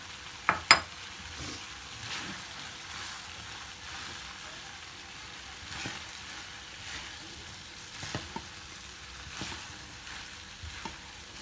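Quiet, steady sizzle of chopped onions frying in a sac pan for liver kavurma, with occasional clinks and scrapes of a utensil stirring.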